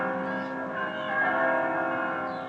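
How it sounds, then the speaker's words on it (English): Church bells ring outdoors in overlapping tuneful peals, a rich sustained chime that swells slightly midway and lingers at a moderate distance. "we were treated to these lovely little bell symphonies about every 30 minutes or so"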